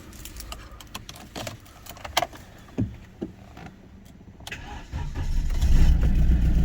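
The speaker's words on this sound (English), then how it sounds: "maybe it's enough to start the car." A BMW E46 engine cranks with a few sharp bursts, then catches and settles into a steady, rising rumble, heard up close.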